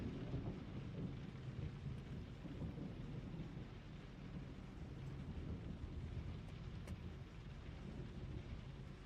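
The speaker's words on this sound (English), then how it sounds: "Why do I hear raining?" Video game rain and thunder: steady rain hisses throughout while low thunder rumbles underneath, a continuous stormy wash with no voices.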